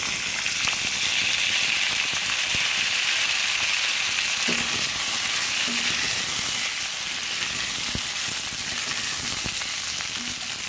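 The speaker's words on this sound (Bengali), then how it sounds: "আর শুকনো লঙ্কাটা কিছুটা ভেজে এবার লাল আলুগুলো দিয়ে দিচ্ছি।" Sweet potatoes frying in hot oil with dried red chilli, a loud, continuous close sizzle with occasional soft stirring knocks and spatters, no talking.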